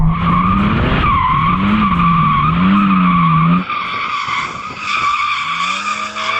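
A Porsche Cayman GT4 RS engine revs high and sustained while tires squeal loudly as a clutch kick slides it sideways, then the engine note drops and shifts.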